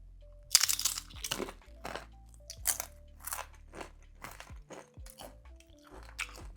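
Close, crisp crunching as someone bites and chews blue corn banana chips, a series of sharp cracks and irregular chewing crunches with no talking.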